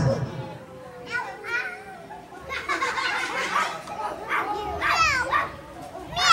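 Children at play, one child giving a playful imitation of a dog's bark between other small voices and chatter, close and lively with bursts of high-pitched calls.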